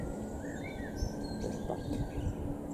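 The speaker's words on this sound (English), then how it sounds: "you just heard a chiff-chaff bird." Faint, high chiffchaff song with short repeated chirping notes over a soft outdoor background at Cambridge airfield.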